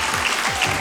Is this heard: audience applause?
yes